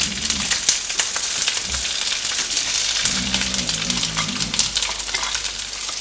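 Tindora (ivy gourd) fries in about two tablespoons of oil in a pan, a steady close crackling sizzle that swells briefly as the vegetables are stirred or added.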